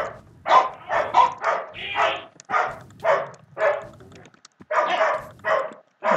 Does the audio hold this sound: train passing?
no